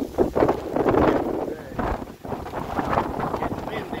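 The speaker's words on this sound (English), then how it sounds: "So good to stand out here with the wind blowing, getting the sprinkles hit me." Steady gusty wind roars across the microphone, rumbling and buffeting continuously with a brief dip midway; a voice talks faintly underneath.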